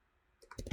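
Computer keyboard keys typed in a short burst of about four quick, close clicks after a quiet lead-in, while entering text in a design program.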